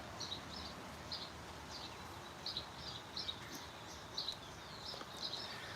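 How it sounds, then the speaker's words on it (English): Birds sing outdoors in the morning, a series of faint, repeated high chirps spaced across the clip over a soft steady background hush. "Listen to them birds."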